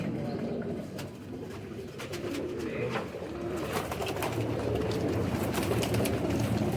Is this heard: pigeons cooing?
yes